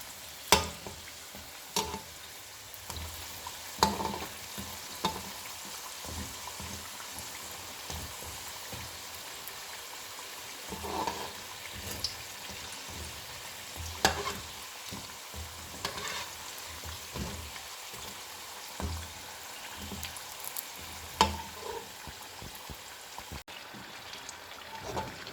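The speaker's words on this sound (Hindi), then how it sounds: "ये ऑलमोस्ट हमारे फ्राई हो चुके हैं" Aloo cheese samosas deep-fry in oil with a soft, rain-like crackle and fizz, occasionally stirred with light scraping clicks, steady and moderately quiet throughout, no voices.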